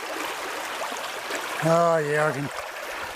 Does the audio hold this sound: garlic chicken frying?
no